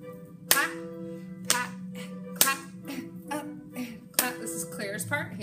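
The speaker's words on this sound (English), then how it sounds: "Ready for your pats." First graders pat their hands in rhythm during music practice, a few sharp slaps spaced about a second apart while a teacher talks and music plays underneath.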